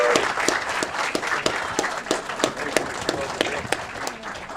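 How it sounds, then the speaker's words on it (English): Sparse, distinct claps ring out at a city council meeting in honour of a middle school, a thin round of individual hand claps at a brisk, uneven rhythm, moderately near, with faint murmur beneath. "Round of applause for Simmons Middle School."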